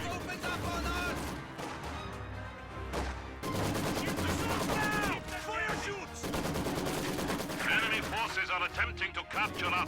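Dense, rapid gunfire and explosions from a Maxim machine gun and other weapons in a real-time strategy battle, continuous rattling bursts and heavy blasts layered together, with someone talking over the din.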